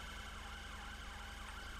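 An ambulance siren wails in GTA 5, a steady electronic siren sweeping up and down, fairly faint under the game's background hum.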